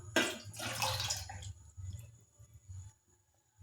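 Two cups of water pour into a pan holding a cup of sugar for gulab jamun syrup, a close splashing gush for about a second and a half, then fading trickles and small drips.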